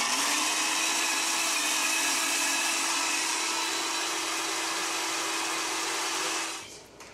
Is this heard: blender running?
yes